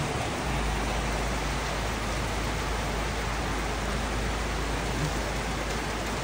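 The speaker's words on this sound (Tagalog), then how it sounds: "Ay, ulan lang." Steady, dense rain hiss from Typhoon Verbena fills the whole stretch, a constant broadband wash with no voices or breaks.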